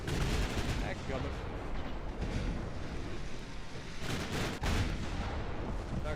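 Heavy naval gunfire from battleship main guns in the Ultimate Admiral Dreadnoughts naval warfare game, a dense continuous roar of booming salvos with a couple of sharper blasts, loud and sustained, with faint talk underneath.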